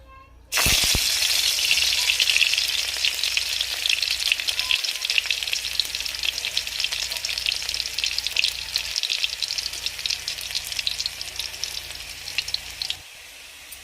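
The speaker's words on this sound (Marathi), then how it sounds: "तेल गरम झालं की त्यामध्ये ठेचलेला लसूण घालायचा आहे।" Crushed garlic drops into hot oil in a kadai and bursts into a loud, close, crackling sizzle that holds steady for about twelve seconds, then cuts off abruptly. No voices are heard.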